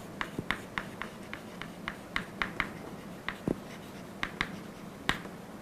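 Chalk or marker tapping and scratching across a lecture board while an equation is written, a steady series of short, crisp, close ticks spaced about a quarter second apart, with no talking.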